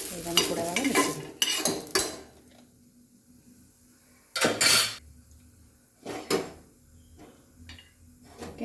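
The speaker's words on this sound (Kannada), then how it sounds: "ಅದಕ್ಕೇ ಸ್ವಲ್ಪ ಶೇಂಗಾ ಹಾಕಿದ್ದೀನಿ ನೋಡಿ" Peanuts roast in a pan amid a few loud, close bursts of metal spoon scraping and clinking against the pan, separated by quiet stretches with faint background hum and occasional light taps.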